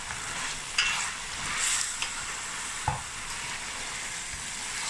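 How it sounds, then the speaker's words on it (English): A spoon stirs oxtail stew in a pot, giving a continuous close sizzle with a few distinct scraping knocks against the pot; no voices. "we're just going to stir it again"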